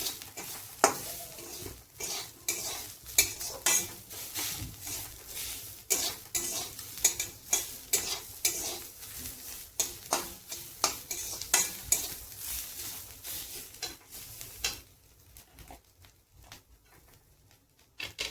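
Bitter gourd stirred with turmeric powder in a frying pan: a steady sizzle under repeated scraping and clinking utensil strokes against the pan, fairly close, fading quieter near the end, with no talking.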